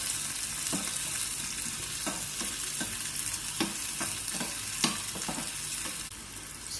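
Onions sizzling steadily in a pan for a Kannada-style mushroom curry, a continuous frying hiss broken by several soft stirring scrapes, fairly close and even, with no talk.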